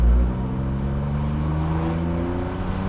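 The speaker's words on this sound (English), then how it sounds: "Here comes the turbos!" A Jaguar XJ220 with its turbocharged engine accelerating hard from inside the car, a loud steady engine drone with rising harmonics after an initial thump, no talk over it.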